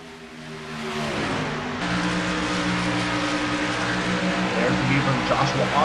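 Dodge Challenger race cars roaring around Darlington Raceway in a racing video game, engines droning steadily with rising and falling pitch as they run single file, loud and close, under race commentary.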